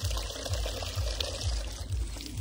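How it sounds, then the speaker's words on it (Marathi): Water poured steadily in a continuous stream, with a low rhythmic gurgle pulsing underneath; no voices. "तिकडचं मिक्स पाणी घालं"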